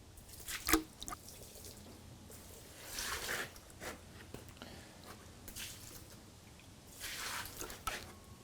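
Scattered drips and splashes of water falling off a sawmill-cut wood slab, irregular and fairly quiet, with soft wet patters between a few louder drops.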